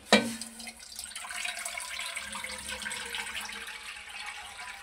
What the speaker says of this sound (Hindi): मैं शामिल कर रहा हूँ इसके अंदर 1 लीटर पानी।